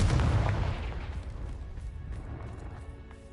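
Confringo blasting spell going off in Hogwarts Legacy, a loud booming burst at the start with heavy low rumble, then a rough crackling decay that fades slowly over a few seconds.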